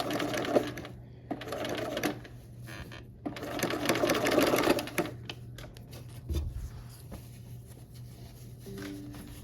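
A sewing machine runs in steady bursts of rapid mechanical stitching, pausing briefly between runs, close and clear.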